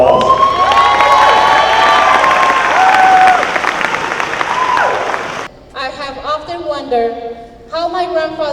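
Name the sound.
audience applause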